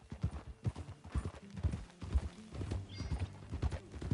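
Horse hooves clip-clopping in a PS4 video game ride: a steady, close rhythm of hoof beats, several per second, continuing throughout with faint game ambience.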